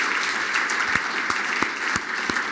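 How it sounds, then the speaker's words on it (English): Department staff applauding at a farewell address by a cabinet secretary in January 2017, a loud, sustained round of clapping from a large crowd with sharp individual claps popping out near the front. "Give all of yourselves a round of applause for your great work."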